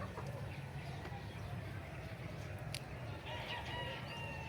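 Chickens cluck and a rooster crows around a backyard flock of Boston roosters and grey hatch gamefowl, amid steady outdoor noise; calls are faint and scattered, with a brief sharp cry near the end.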